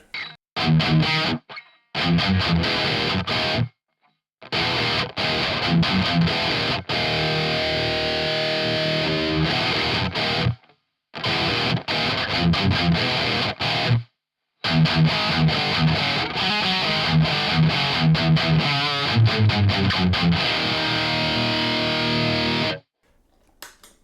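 Electric guitar through an EQ pedal, with no added distortion, playing loud distorted-sounding chugging metal riffs and sustained chords, broken by several short silent gaps between phrases.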